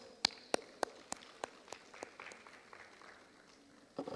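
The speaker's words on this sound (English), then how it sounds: "Please give them a big round of applause." Scattered clapping from a small audience at a police commissioner's annual report press briefing: a handful of sharp, separate claps that thin out and fade, faint and fairly distant.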